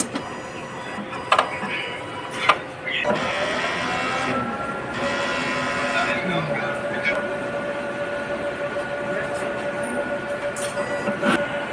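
A printer whirs mechanically with a continuous motorized hum after a few sharp clicks, close by and steady, during a print head nozzle cleaning cycle.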